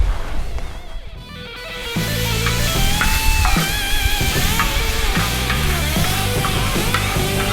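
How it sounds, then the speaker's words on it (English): Mushrooms and onion sauté in melted butter in a pan during off-grid cooking, giving a steady close sizzle that runs the whole time under prominent background music. "I'm gonna add the mushroom and the onion. And I'm gonna let that cook until they're nice and brown."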